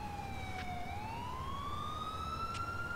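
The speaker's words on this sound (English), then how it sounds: "You might want to kill the siren." A police car siren in the video game GTA with the LCPDFR mod wails in a clear, sweeping tone that dips and then rises steadily, sounding alone over a soft background hum.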